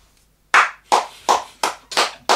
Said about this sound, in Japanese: これそんな拍手することは別に言ってないけどね